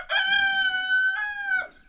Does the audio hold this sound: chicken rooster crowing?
yes